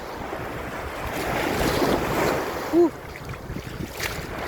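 Surf at Mercato Beach in Jumeirah, Dubai, a steady wash of waves rolling in with wind noise buffeting the microphone, and a brief faint tonal blip partway through.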